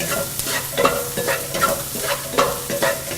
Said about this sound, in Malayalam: ഇതിലോട്ട് മഞ്ഞൾപ്പൊടി, കുരുമുളക് പൊടി, മീറ്റ് മസാല എന്നിവയെല്ലാം കൂടിയിട്ട് വഴറ്റുക